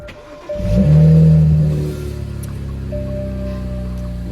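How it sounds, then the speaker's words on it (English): A modified BMW 335 with catless downpipes cranks briefly on a cold start and fires up, surging loudly for about a second before settling into a steady, rumbling idle close by. "You guys ready for this crazy cold start?"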